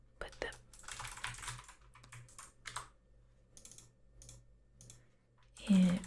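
A password is typed on a computer keyboard in quiet, close-up bursts of soft key taps separated by short pauses, followed by a brief soft voice at the end.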